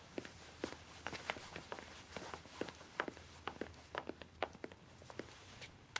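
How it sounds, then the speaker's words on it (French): Footsteps walking at a steady pace, each step a crisp distinct tap in a quiet room, roughly two per second and moderately close, with no voices over them. "Les bruits de pas."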